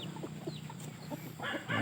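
Young roosters, six to eight of them, cluck around a house yard in the evening: short, close calls scattered through the moment, rising to a louder, denser burst of clucking near the end.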